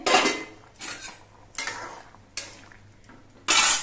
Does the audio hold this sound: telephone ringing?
no